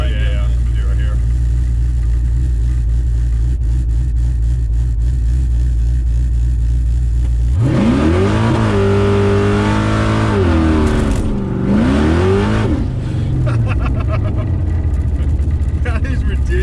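A supercharged 1969 Camaro making 600 wheel horsepower idles with a deep, loud rumble, then its engine revs hard in rising and falling bursts before settling back, close and dominant.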